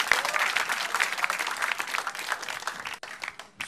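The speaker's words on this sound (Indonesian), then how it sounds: "tepuk tangan" Audience at an Indonesian stand-up comedy show breaks into sustained, dense clapping, loud and steady from start to finish with a brief dip near the end.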